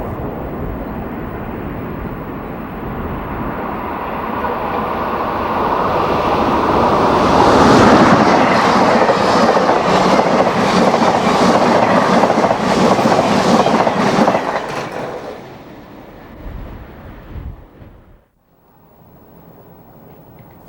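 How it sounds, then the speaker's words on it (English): Amtrak trains roll through Perryville station at dusk, a rising roar of wheels and rushing cars that peaks loudly with rhythmic clickety-clack, then fades away into quiet near the end. "At dusk, Amtrak trains continue to roll through Perryville."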